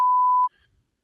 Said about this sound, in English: I guess we could beep it.